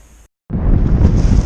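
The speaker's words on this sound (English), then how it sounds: "They got a little windy out here." Strong, steady wind buffeting the microphone outdoors on the water while bass fishing, a loud continuous rumbling roar that starts abruptly after a brief silence and holds for the rest.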